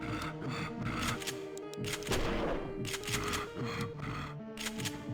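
Pistol and shotgun fire in a first-person shooter video game, heard as rapid repeated sharp shots over a steady background of game music and effects.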